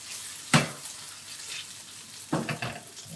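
Homemade gnocchi frying and turning golden in a pan, with a steady low sizzle broken by two louder bursts of crackling as the pieces are stirred or tossed.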